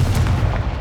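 A Confringo fire spell blast in Hogwarts Legacy: a loud, booming burst with a heavy low rumble that fades within a second, heard on its own.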